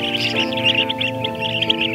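Blue-tailed bee-eater chicks call in a rapid, busy chorus of high chirps, close and fairly loud, repeating in quick bursts over a steady hum.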